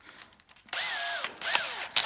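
A hand drill turns in short bursts, giving a whirring, squeaky mechanical sound with brief pauses between turns, close and fairly quiet.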